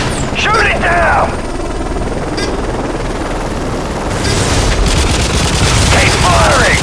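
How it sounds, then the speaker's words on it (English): In the Wii version of Call of Duty MW3, an enemy helicopter drones loudly while bursts of gunfire crackle throughout, mixed with in-game voices. "Enemy chopper closing on your position."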